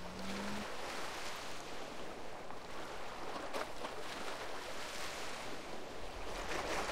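A character swims through water in GTA San Andreas, with a steady, close, broadband watery wash that runs unbroken throughout without talk.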